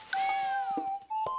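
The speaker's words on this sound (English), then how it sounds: "So let's have a look at the little cat." Cartoon cat hiding in a bush gives a drawn-out, wavering meow followed by a couple of shorter mews, close and clear, with no speech over it.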